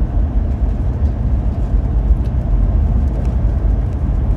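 A car rolls along a road on the US–Mexico border at about 30 mph, its steady engine and tire rumble filling the cabin loudly and continuously with no speech.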